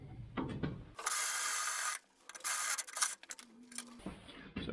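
A power drill cuts a larger hole through raw steel in loud, broadband grinding bursts, stopping and restarting a few times over several seconds.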